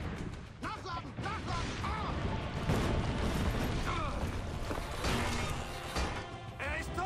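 Heavy cannon booms from Assassin's Creed Brotherhood at Monteriggioni land in a few loud bursts over dense game noise, while someone talks throughout.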